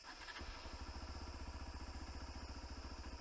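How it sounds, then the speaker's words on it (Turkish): A Hero Xpulse 200 motorcycle engine idles with a steady, rapid pulsing thump, close and continuous after a brief start. "Motorun sesi gayet güzel."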